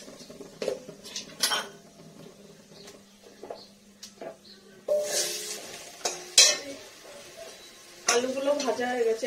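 Potatoes frying in a pan after fish: bursts of sizzling alternate with stirring and clattering of spatula and cookware, close by, with quieter gaps and some talk.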